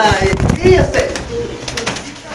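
Pigeons coo softly and repeatedly, close by, mixed with a busy background and someone talking over them.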